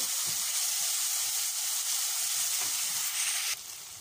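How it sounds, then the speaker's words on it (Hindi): Ginger garlic paste frying in a pan with cumin, a continuous bright hissing sizzle heard close and alone, with soft crackles underneath, easing slightly near the end. "एक टेबल स्पून अदरक लहसुन डाल दिए, अच्छा पर जाने तक अच्छे से भूनेंगे इसको।"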